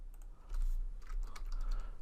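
A short burst of light keystrokes on a computer keyboard, close and soft over a low background hum.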